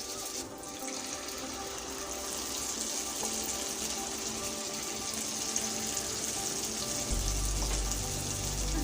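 Gulgule, sweet fried dough balls, bubble and sizzle steadily in hot oil, a soft continuous hiss with no talking, growing a little heavier toward the end.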